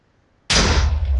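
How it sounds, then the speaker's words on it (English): A sudden loud explosion from the Minecraft ICBM mod bursts out after near silence, a single heavy blast with a broad roar that sustains to the end. "Makes a pretty big explosion."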